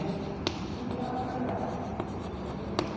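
A pen scratches steadily across paper while a math solution is written out, a close, continuous scratchy texture with a few sharper pen taps and no speech.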